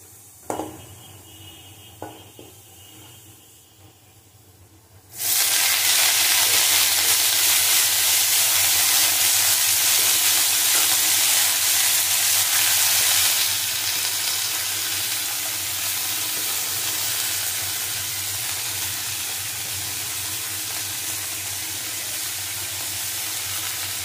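Jukti flowers dropped into a little hot mustard oil burst into a loud, steady sizzle that holds strong, easing slightly as the frying settles, after a quieter stretch of faint kitchen noise.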